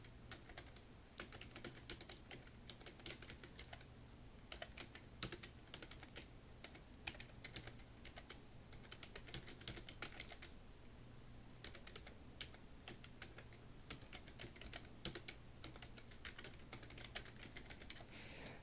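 Steady, continuous typing on a computer keyboard while entering text in PowerPoint, with dense rapid key clicks at close range, alone and without talk, over a faint low hum.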